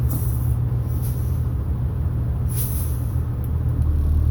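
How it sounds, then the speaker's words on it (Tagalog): Steady low rumble of an idling bus with push-button automatic transmission, topped by short hissing bursts of air as the maxi brake, the air parking brake, is released. "Tapos i-press po natin ang release ng maxi brake, parking brake."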